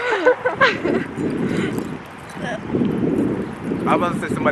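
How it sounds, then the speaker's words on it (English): Gusty wind blows outdoors, roaring and buffeting the microphone steadily through the whole stretch while people talk over it. "Very windy out here."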